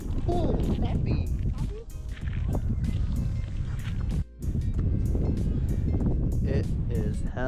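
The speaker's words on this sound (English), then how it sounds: "It is hella windy today." Strong gusting wind buffets the microphone on a frozen lake during ice fishing, rumbling continuously while people talk over it.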